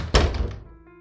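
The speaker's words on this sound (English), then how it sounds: "he stomped his way to the door, slamming it behind him" A wooden door in an old Appalachian home slams shut with one heavy, loud thunk, then a short ringing decay fades into quiet.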